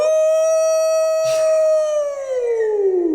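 A person imitates a wolf howl at a Flesh and Blood card game match, one long sustained wavering cry that slides downward in pitch at the end, loud and close with no talk over it.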